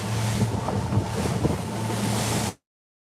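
Wind buffets the microphone in a constant low roar with gusty thumps, over a faint background rumble, at sea, then cuts off abruptly.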